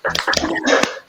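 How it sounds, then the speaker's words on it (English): Participants in an online meeting applaud, a brief, scattered burst of claps and snaps that sound compressed through call audio. "Can everyone just come off mute and give Nancy, please, a round of applause?"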